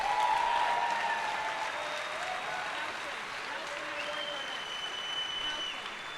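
At a miniature-painting awards ceremony, an audience gives a steady round of applause, moderately distant and even, with a few faint voices and tonal sounds drifting through.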